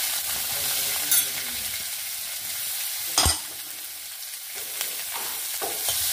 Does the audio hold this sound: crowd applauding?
no